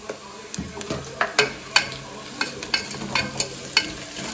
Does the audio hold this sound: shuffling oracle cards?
no